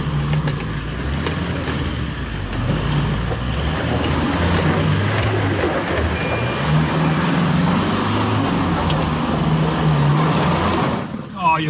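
A 4x4 pickup truck, either a Toyota HiLux GR or an Isuzu D-MAX Blade, labours uphill off-road with a steady, loud engine drone that holds throughout, punctuated by bumps and rattles, and people talk over it.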